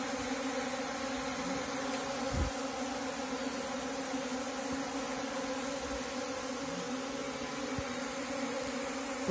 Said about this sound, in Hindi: तो वो देख सकते हो सारी मधुमक्खी आ गई